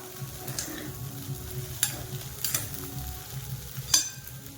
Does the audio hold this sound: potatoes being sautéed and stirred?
yes